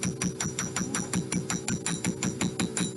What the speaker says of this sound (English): I'm going to take the round end of my chasing hammer